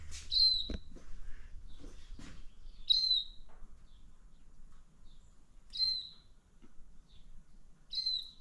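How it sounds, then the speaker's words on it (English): Small bird trapped inside a workshop gives short, bright chirps at intervals of a few seconds, close and clear over a quiet room with a single thump early on. "that stupid bird is still stuck"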